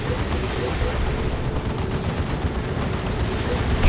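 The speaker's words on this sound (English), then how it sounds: "Oh, here comes a las cannon for Adila." Heavy gunfire and explosions from a Warhammer 40,000: Dawn of War 2 2v2 battle as a las cannon, a powerful anti-vehicle weapon, fires at a Baneblade; a dense, continuous rumble of shots and booms, growing louder at the end.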